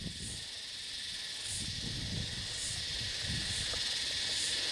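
Cicadas near Sydney on a hot hillside, a loud continuous high buzzing drone that swells in pulsing waves throughout, with faint low rustles and footsteps beneath.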